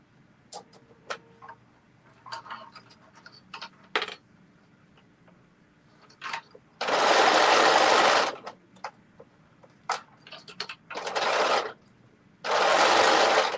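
A sewing machine stitches knit sock fabric in three loud, steady bursts of roughly one to two seconds each, separated by quieter handling clicks, taps and rustles of the fabric between runs.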